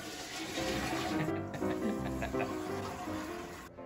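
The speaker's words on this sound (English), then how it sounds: "although we also liked the pull-down flush toilet" A pull-down flush toilet in the Colonel Cody room of the historic Irma Hotel in Cody, Wyoming, flushes with a loud, close rush and gurgle of water that runs steadily for several seconds.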